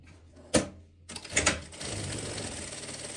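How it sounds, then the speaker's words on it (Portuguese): A sewing machine stitches fabric, starting with a couple of sharp clacks and then settling into a steady, fast mechanical whirring rattle, close and moderately loud. "Vou costurar."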